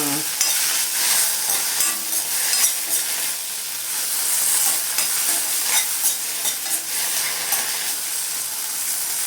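Ingredients for coriander chutney sauté in a hot pan, a steady bright sizzle with repeated scraping and stirring strokes, close and continuous with no talking.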